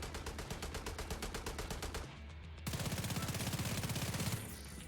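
Rapid automatic gunfire in Tom Clancy's The Division 2, a fast even stream of loud shots that breaks off briefly and then comes back in another dense burst, without any voices.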